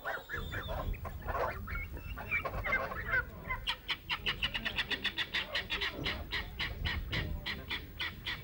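A flock of guinea fowl clucks and chatters nearby at feeding time on a farm, starting in a jumble and settling into rapid, rhythmic repeated calls, loud and busy.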